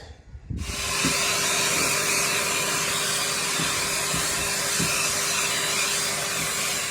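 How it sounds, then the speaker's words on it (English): A George Hoover wet vacuum from B&Q, bought for £299, runs steadily while cleaning the rear boot carpet of a Renault Clio, a loud continuous hissing whine that starts abruptly and holds, with faint periodic thumps beneath it. "I have just wet vacked the rear boot carpet"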